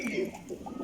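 Large pigeons kept at a home loft give a brief, low coo nearby over faint background noise.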